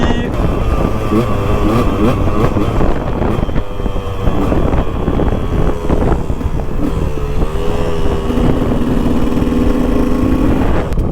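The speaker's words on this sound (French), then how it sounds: "Regardez comment la moto tourne vraiment nickel." A KTM 125 EXC two-stroke dirt bike fitted with an FMF Shorty exhaust runs steadily close by, its engine drone mixed with wind buffeting the microphone and occasional talk.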